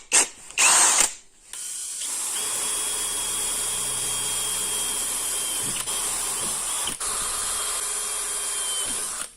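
A small drill bit bores into metal with a steady high whine lasting several seconds, preceded by a few short knocks and clatters, close and fairly loud.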